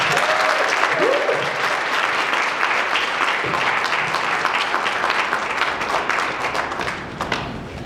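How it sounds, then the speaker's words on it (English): Sustained applause from a theatre audience at an opening ceremony, honouring a speaker who has just finished; dense steady clapping fills the whole stretch, easing slightly near the end. "Give her another round of applause"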